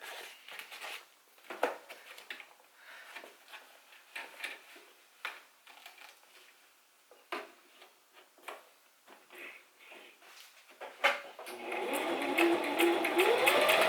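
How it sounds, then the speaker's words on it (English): A sewing machine stitches back and forth across a fabric face mask in short repeated bursts, its rapid ticking runs broken by pauses, ending in a louder, steadier stretch of continuous stitching. "I'm just going to sew back and forth across this a few times."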